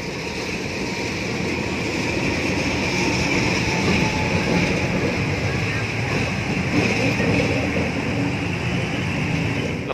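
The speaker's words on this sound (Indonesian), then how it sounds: "lokomotif mundur" Double-traction diesel locomotives with CC-class units reversing at a rail yard, a steady heavy engine rumble and rolling noise holding close and loud throughout.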